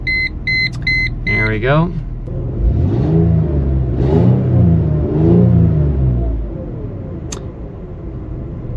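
A 2001 Mercedes ML320 with a slight exhaust leak: warning chimes, then a brief starter crank catching into a running engine that revs up and down three times, close and loud, with a short spoken remark.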